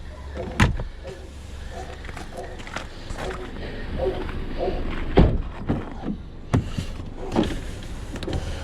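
Power windows of a 2015 Ford Escape SE whir up and down in short electric motor runs, close inside the cabin, punctuated by a few clunks and thumps.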